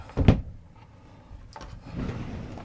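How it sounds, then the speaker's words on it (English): A pocket door in the bedroom of a Freelander RV slides shut, with a sharp knock at the start, a quiet glide and then a soft rumbling roll near the end, close by and without talk. "All you're going to do is pull this, and then we have another pocket door."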